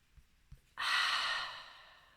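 A long, breathy exhale during a vinyasa yoga flow, close and fairly loud, following two soft inhales and fading gradually over about a second and a half, with no talking.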